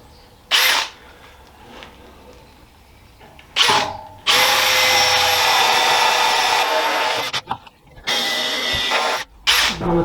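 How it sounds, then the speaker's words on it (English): A power drill whirs loudly into metal in a few bursts, starting and stopping, with short gaps of quiet workshop noise between, drilling parts for a Nashorn Pak 43/41 gun cradle sled. "I'm going to take an extra drill, extra size, to make it easier."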